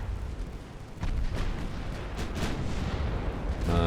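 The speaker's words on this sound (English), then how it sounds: "Maybe the battleship should not be firing AP for this" Battleship main guns firing armour-piercing shells in a 1904-era naval battle video game (Ultimate Admiral Dreadnoughts), heard as a steady low rumble with several muffled booms and a sharper burst near the end, no talk.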